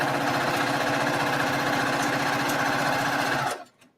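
A sewing machine stitches quilt binding on quilting cotton, running steadily at close range with a dense continuous whir, then cutting off abruptly near the end.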